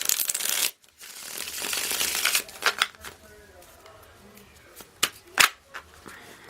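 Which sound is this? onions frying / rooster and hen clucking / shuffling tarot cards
shuffling tarot cards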